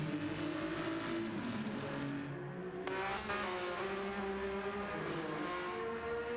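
Ferrari 296 race car at an NLS endurance race on the final lap, its engine roaring loud and steady throughout with shifting pitch as it revs and changes gear.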